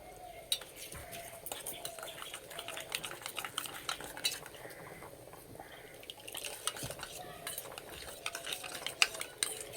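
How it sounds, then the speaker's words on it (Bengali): A spoonful of rice flour being mixed with water in a small bowl, with quick metallic scraping and clinking of a spoon, fairly faint against kitchen background noise. "এবার জল দিয়ে গুলে নেব"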